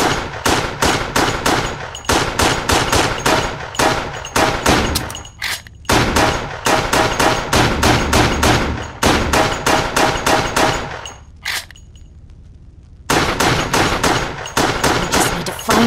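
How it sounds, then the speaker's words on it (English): Rapid bursts of gunfire from Resident Evil: The Darkside Chronicles on the Wii ring out in dense volleys of sharp shots, loud and close, with brief pauses between strings of fire. "I guess we just keep shooting until we find it"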